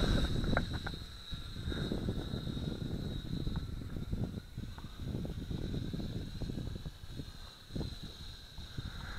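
Wind gusting steadily outdoors across a microphone, a continuous low rumbling roar with a thin high whine from a Syma X5C quadcopter drone running throughout.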